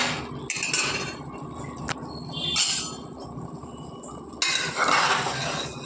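Vermicelli chicken biryani being mixed from bottom to top in a pot, with repeated metallic scrapes and clinks of a spoon against the pot, loud and close, and no talk.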